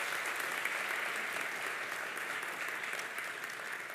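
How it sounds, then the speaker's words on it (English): Sustained audience applause fills an alumni awards ceremony, a steady dense wash of many hands clapping at even loudness throughout with no speech over it. "One more round of applause for Al Mikiak."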